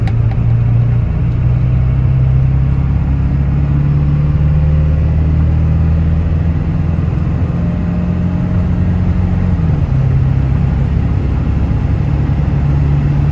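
A Ford 7.3 Power Stroke diesel pickup idles nearby with a steady low throbbing drone, its pitch stepping slightly up and down during a long, even run with no voices.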